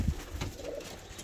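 Soft, low pigeon cooing close by, near a newly hatched pigeon chick, a short murmuring call with faint rustling, quiet and unhurried.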